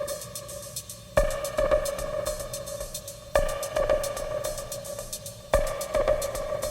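Drum machine pattern from a DrumBrute Impact processed with delay and layered with an effected copy, a sustained dense wash with strong accented hits about every two seconds and echoing repeats, loud and continuous with no talking.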